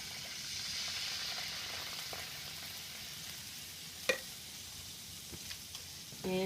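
Shallots cooking gently in a pan on low heat, a soft, quiet, continuous sizzle with a couple of light utensil taps near the end.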